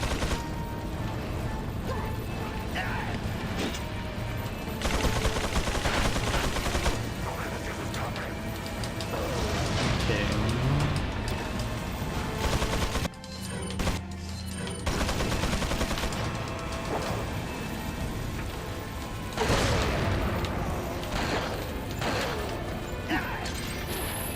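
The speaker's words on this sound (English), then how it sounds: "that's why you use the magnum in this section, to just shoot down those locks really fast" Magnum shots in Resident Evil 4 blast locks apart in a game speedrun, heavy reports mixed with mechanical clatter and crashes over dense game sound, with a brief drop near the middle.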